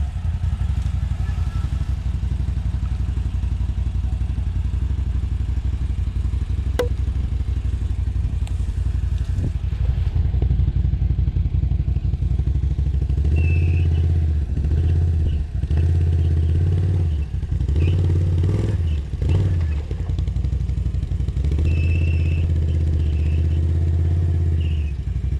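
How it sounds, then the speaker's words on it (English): An ATV ridden through a stream in the Canadian wilderness, its engine droning steadily and then rising in louder surges with splashing clatter as it pushes through the water, close by and without talk. "he brought his own ATV out, and then he wanted to ride through that stream"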